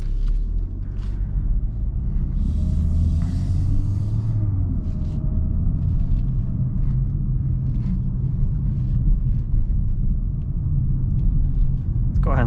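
A 2018 BMW 340i xDrive M-Performance pulls away, its engine a steady low rumble that stays close and even throughout with no voices over it.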